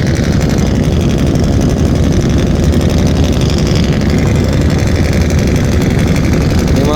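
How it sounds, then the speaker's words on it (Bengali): The engine of the passenger launch Sundarban 14, pulling away from Sadarghat in Dhaka, gives a loud, steady, deep rumble with constant churning noise and no pause. "মোটামুটি সদরঘাট ছেড়েই টান শুরু করলো সুন্দরবন 14 লঞ্চ।"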